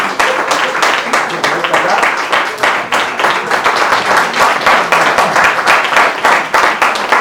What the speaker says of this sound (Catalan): Un aplaudiment, sisplau.